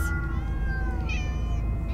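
Several cats meow in Minecraft: Story Mode, overlapping harmonic mews rising and falling against a steady low game background, fairly close and clear with no talking.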